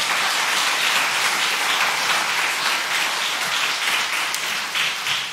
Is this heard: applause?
yes